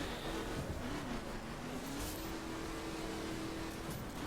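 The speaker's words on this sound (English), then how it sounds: "Also second, it goes towards the limiter and it kinda sticks there before it goes to dirt." A car engine in the Dirt 5 racing game holds a steady, strained high-pitched drone as it sits against the rev limiter, fairly faint and continuous, with no talking.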